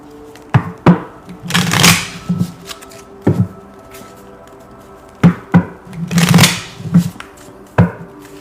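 Oracle cards being shuffled by hand, with several bursts of riffling and slapping broken by short pauses and single taps, close and fairly loud, with no voices.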